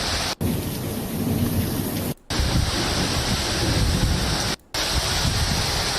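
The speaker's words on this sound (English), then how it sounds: "There's lightning, thunder." Heavy rain pours steadily through a sudden thunderstorm, with deep rumbling thunder rolling underneath. The roar is loud and continuous, broken only by a few abrupt cuts.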